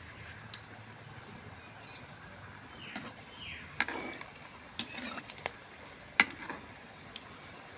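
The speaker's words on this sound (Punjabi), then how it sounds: "ਕਰੇਲੇ ਆਪਣੇ ਫਰਾਈ ਹੋ ਰਹੇ ਹਨ" Bitter gourds (karela) fry in a pan with a faint, steady sizzle, broken by a few sharp scrapes and clinks of stirring, close by and with no speech.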